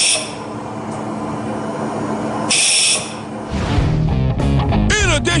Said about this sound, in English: this extreme espresso machine is designed to set off this train whistle